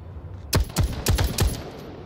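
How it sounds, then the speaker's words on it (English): Five quick, sharp gunshots from a video game firefight, evenly spaced single cracks, close and loud over a quiet background, no talking. "Yeah, I was shooting at the wall."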